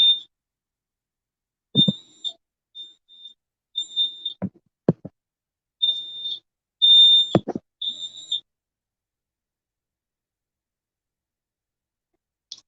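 A household fire alarm going off in a kitchen, sounding in repeated short high-pitched beeps and bursts separated by pauses, mixed with a few sharp knocks and thumps, with no talking.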